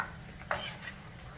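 Peanuts fry in a pan with a soft, continuous sizzle, broken by a single quick scrape of a stirring spoon partway through. No one speaks.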